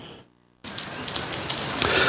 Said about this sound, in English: The rain is hard and heavy